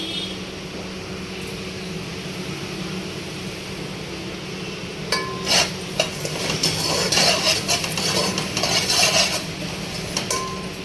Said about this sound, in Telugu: అందులో జీలకర్ర ధనియాలు నువ్వులు వేసి మంచిగా వేయించుకోవాలి